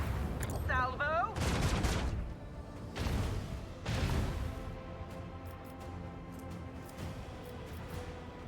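A salvo of ship weapons fires in the Warhammer 40k Rogue Trader video game, with heavy booming bursts and rolling blasts, then a fading low rumble with sporadic hits. A brief game voice line sounds near the start.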